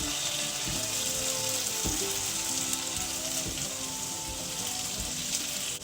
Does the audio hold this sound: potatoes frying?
yes